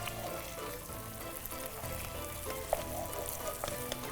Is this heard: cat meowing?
no